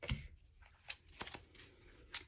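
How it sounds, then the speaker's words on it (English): Tarot cards shuffled a couple of times during a personal reading, giving short papery riffles and soft snaps in a few separate bursts, close and fairly quiet with no talking. "Then I shuffle a couple of times."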